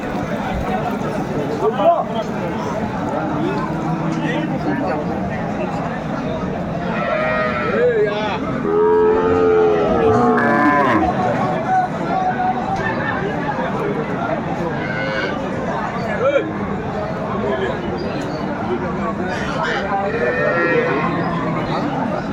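Cows and calves moo repeatedly at the Aftabganj cattle haat, several drawn-out calls rising over a constant crowd babble as people talk and bargain nearby.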